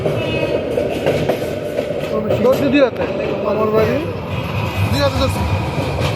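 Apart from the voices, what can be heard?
train passing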